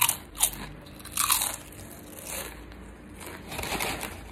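Imported cheese-flavoured potato chips crunched and bitten close to the mouth, several crisp bites followed by steady chewing crackles, fairly loud with no talking.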